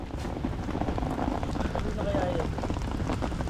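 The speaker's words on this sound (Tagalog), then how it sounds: "Lalo malakas yung ulan." Heavy rain falls at a fishing pond with tilapia, a dense steady hiss and patter throughout, while people talk close by over it.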